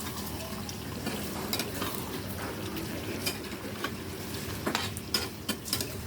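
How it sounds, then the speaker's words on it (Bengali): Beef with banana blossom being stirred and sautéed in a pan, a constant close sizzle and wet frying hiss with irregular utensil scrapes and taps throughout, no voices. "এখন মাংসটা ভালো করে নাড়াচাড়া করে কষিয়ে নিব"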